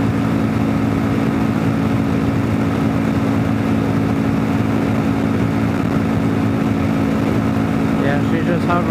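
A 2022 Kawasaki KLR650 Adventure fitted with a 16-tooth front sprocket, cruising at 6,500 RPM and about 93 mph, giving a steady loud engine drone with heavy wind rush throughout.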